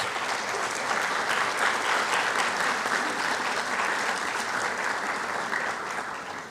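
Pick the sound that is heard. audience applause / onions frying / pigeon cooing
audience applause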